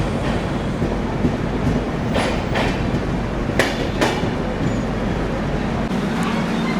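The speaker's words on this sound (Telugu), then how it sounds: "నెల్లూరుకి మన ట్రైన్ ప్లాట్ఫామ్ 2కి అయితే వచ్చింది." The 12840 MGR Chennai Central–Howrah Mail superfast express stands at Nellore platform 2, giving off a loud, steady rail rumble broken by a few sharp metallic clicks and clanks.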